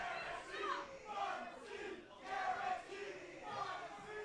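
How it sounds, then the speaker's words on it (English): A wrestling crowd at a Monster Factory championship match chants in rising and falling waves, voices massed together and somewhat distant, repeating in a steady cadence. "You hear the crowd chanting"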